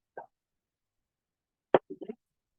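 Chopped tomato is dropped into a bowl of mixture with chopped onion, giving a few soft wet plops and dull thuds. The sounds are close and quiet and come in a short cluster after a single faint first drop.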